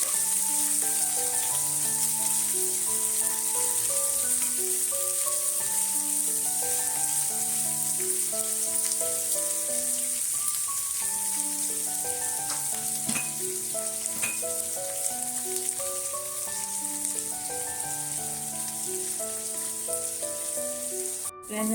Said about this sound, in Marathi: आपल्याला ते एकदम कडक भाजायचं, चांगली परतून घ्यायची.